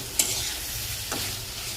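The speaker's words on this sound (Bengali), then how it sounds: "মশলাটা পোস্তটা ভাজা ভাজা হয়ে গেছে" Spice and poppy seed paste frying in oil in a pan, a soft, quiet sizzle broken by two brief stirring scrapes.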